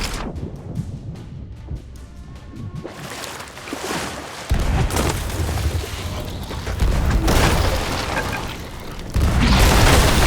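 Ship cannon fire in the pirate game Sea of Thieves, with a loud booming blast followed by rumbling bursts and heavy wash of waves and wind, dense and continuous at close range.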